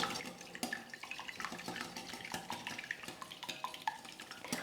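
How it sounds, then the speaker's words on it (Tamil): A spoon beats eggs for cake batter in a bowl with quick, irregular clinks and taps against the side, quiet and close, with faint kitchen water noise behind it. "நல்லா அடிச்சுக்கலாம் முட்டையை வந்து"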